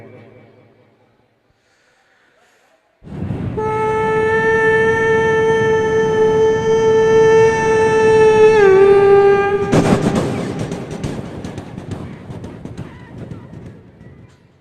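A stage performer vocally imitates a train passing a level crossing, holding a loud, sustained horn-like wail that bends briefly in pitch and then breaks into a noisy rushing rumble that fades.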